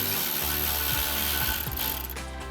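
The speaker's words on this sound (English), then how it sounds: "Grab a ratchet and tighten that down." A hand ratchet tightening the two 13mm brake caliper bolts on a Dodge Challenger during a brake pad install, clicking in several quick strokes, close and fairly loud over a steady background hum.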